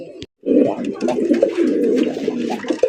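Colored rasgolla pigeons coo steadily and close, a dense, low, continuous burbling after a brief silent gap, with no speech over it.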